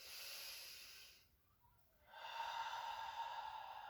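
Deep yoga breathing, a long breathy exhale, a short near-silent pause, then a strong inhale close to the microphone, soft and hissy.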